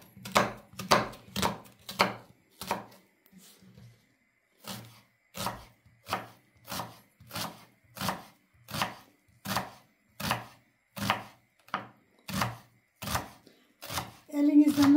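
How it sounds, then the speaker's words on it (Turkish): A knife finely chops onions on a board in a home kitchen, producing a steady rhythm of sharp, evenly spaced cuts, close and crisp, with a brief pause partway and a quick flurry at the end. "Soğanlarımızı doğramasını size şöyle bir gösterivereyim ben."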